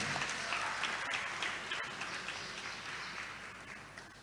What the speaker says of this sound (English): Let's clap for both of them.